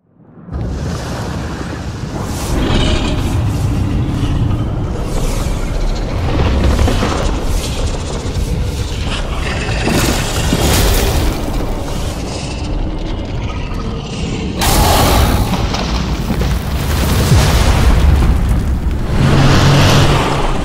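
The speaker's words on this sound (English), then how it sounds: "Shit, what was that? A leftover bomb?" A heavy bomb blast booms in the game Styx: Shards of Darkness, a loud, sustained rumbling explosion that rolls on with debris and a second surge of roaring noise near the end.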